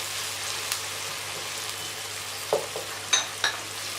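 Spices and softened tomato fry in a pan with a soft, steady sizzle and scattered small crackles and pops, heard close and fairly quiet with no talking.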